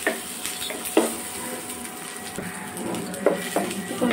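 Onions frying in a pan with a soft, steady sizzle, punctuated by a few clinks and scrapes of a spoon against the pan, close up and without speech.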